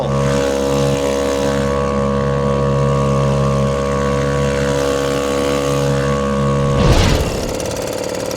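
A new outboard boat motor runs at full throttle, a loud, steady, close engine drone with a strong hum, then the tone shifts sharply near the end as the revs change.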